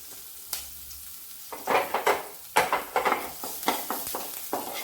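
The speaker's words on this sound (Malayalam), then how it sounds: "കുറച്ച് നെയ്യും കൂടി ഒഴിച്ചു നമ്മൾ കട്ട് ചെയ്ത് വെച്ചിരിക്കുന്ന വെജിറ്റബിൾസ് ആദ്യം ചേർക്കുന്നത് ഇഞ്ചി പച്ചമുളക്" Ginger and green chilli frying in ghee for vermicelli upma, with a close sizzle that swells in bursts as the pieces are stirred in the pan.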